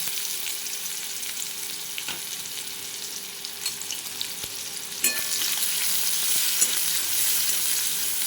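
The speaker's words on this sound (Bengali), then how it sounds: "আমি পেঁয়াজটাকে খুব ভালোভাবে ভেজে নেব।" Chopped onion fries with nigella seeds and slit green chillies in hot oil for a fish curry, a steady, close sizzling hiss with occasional crackles that swells louder partway through, no voices.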